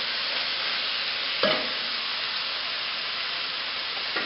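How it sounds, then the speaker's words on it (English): Vegetable curry with cinnamon and spices sizzles and hisses steadily in a pot, with a short scrape of stirring partway through; close and even throughout, with no talking. "And we're just going to stir this together"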